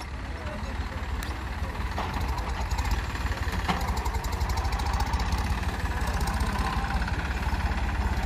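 A Massey Ferguson 9500 4x4 tractor engine chugs and rumbles steadily and loudly throughout with a rhythmic mechanical knock, while someone speaks over it.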